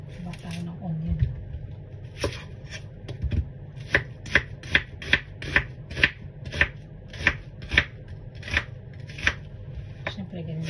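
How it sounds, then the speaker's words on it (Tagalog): A knife chops onion into small pieces on a cutting board, a steady run of sharp, evenly spaced taps, close and clear, with faint kitchen rumble underneath. "ganun yung gawin ko sa paghiwa sa onion. Gusto ko maliit."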